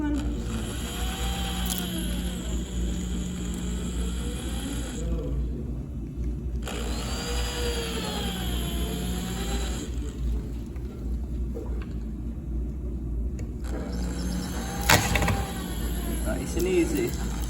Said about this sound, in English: So we'll drill these